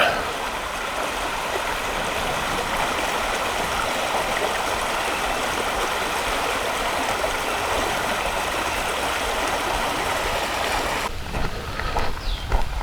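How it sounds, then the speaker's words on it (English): Steady broadband rush of a creek flowing under an old trestle built in 1896 on the Eastern Lodi Marsh segment of the Ice Age Trail, continuous and fairly loud, thinning near the end as the water recedes. "The creek is still running well through it."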